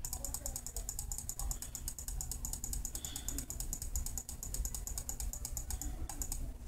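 Rapid, rhythmic clicking of a computer mouse during Pokemon Brick Bronze gameplay, dozens of close, crisp taps in a steady stream over a low background hum.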